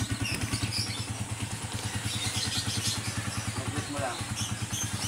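A motorcycle engine with a fault idles steadily nearby with a fast, even putter throughout, and voices talk faintly underneath.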